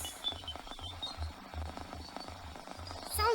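Eerie space recording said to come from Jupiter's moon Ganymede: a steady run of low, pulsing throbs in an even rhythm under a hissy, crackling wash, with a few faint whistling tones rising near the end.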